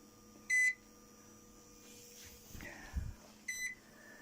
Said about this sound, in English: It's beeping faster now,